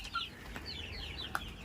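Kampung chickens in a backyard coop give soft, scattered clucks and a short sharp squawk, faint against quiet farmyard background.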